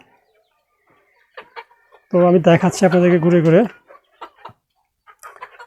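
Farm chickens cluck in short bursts close by while someone talks over them as they eat tomatoes and cabbage.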